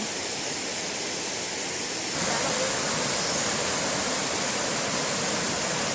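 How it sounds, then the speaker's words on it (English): Steady rushing water, like a stream or small waterfall in Caisan, Panama, near Volcán, a constant broadband roar that grows louder partway through. "And the sound of the water is really pretty."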